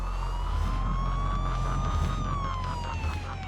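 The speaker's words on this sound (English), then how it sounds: "this picturesque backdrop has been disturbed by the sound of a police siren." A police car siren wails during a pursuit on a rural road, its tone rising and falling over a steady engine rumble, moderately loud and continuous.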